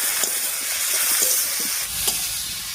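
Tomatoes cooking in a pan as salt and turmeric are added, giving a steady, close sizzling hiss with a few faint clinks and scrapes. No one speaks.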